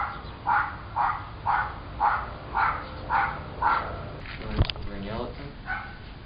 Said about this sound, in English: I'm just so sick of barking.